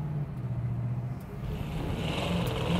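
A 1967 Chevrolet C10 pickup with a big-block engine idles nearby, holding a steady low rumbling drone that swells slightly toward the end, with no voices over it.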